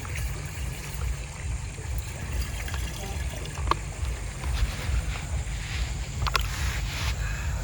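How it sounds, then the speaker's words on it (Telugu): Purified stream water is poured into a water bottle outdoors beside a stream, giving a steady trickling and gurgling over a low rushing background, with a few brief clinks standing out. "సో వాటర్ బాటిల్లో ఫిల్ చేసుకుంటాను."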